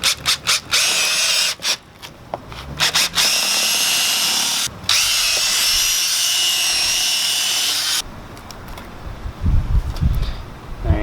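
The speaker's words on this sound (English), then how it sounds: "You're going to take a drill and punch a couple holes throughout this rubber part of the bushing and kind of work the bit around inside the bushing" A power drill bores holes through the rubber of a differential bushing: short on-off bursts, then a long, loud, steady whir with a brief dip midway, ending in clattering handling noises.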